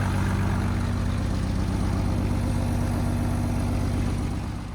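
A heavy truck engine runs steadily at close range, a deep low rumble with a constant drone that holds evenly for the whole stretch before easing slightly at the end, with no talking over it.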